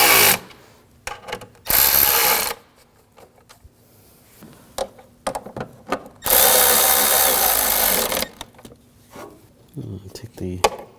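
A ratchet tightens the O2 sensor bolts on a 2007-2013 BMW 328i 3.0L inline-six, heard as two bursts of rapid clicking between quieter handling noises and clanks, close by.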